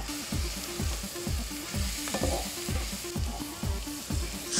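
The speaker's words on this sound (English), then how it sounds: "As soon as this butter melts, we're going to add our flour" Butter melting in a pan for a roux gives a soft, even sizzle, with regular low thumps pulsing steadily underneath.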